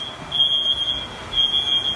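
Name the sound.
dormitory smoke detector alarm going off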